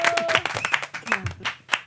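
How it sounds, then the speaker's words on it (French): A few scattered claps from a small audience during a storytelling performance, sparse and uneven hand strikes with some voices mixed in. "On applaudit."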